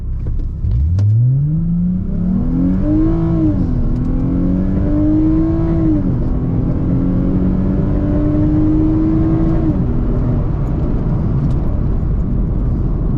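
A modified Lexus IS350 with racing headers launches hard from a standstill, its engine note climbing through several gear shifts with brief dips between them, loud and close from the cabin with no talking.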